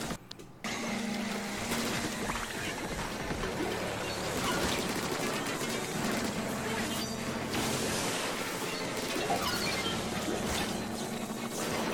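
Stingray weapon in Splatoon Salmon Run firing a continuous, buzzing sustained beam in loud bursts, broken by brief pauses as it lets go and re-aims, over dense game noise.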